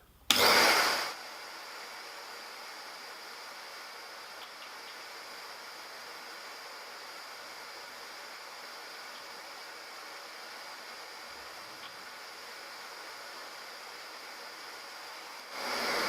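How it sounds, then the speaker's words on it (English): A Record Power CGV 386 cyclone dust extractor runs on one motor, giving a steady, loud broadband rush that starts with a sharp switch-on surge and holds evenly throughout, with no talking. "let's see with one motor how good this sucks it up"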